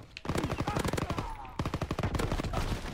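Rapid bursts of gunfire from a sniping match in the video game Call of Duty WW2, loud and close, with continuous rattling shots and brief gaps, while a player speaks over them.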